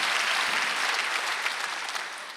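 Churchgoers clapping during a Korean Sunday worship service, a continuous dense patter of many hands that tapers slightly at the end.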